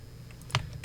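A few quick keystrokes on a computer keyboard, close and distinct over a low steady hum, in a short burst of light clicks.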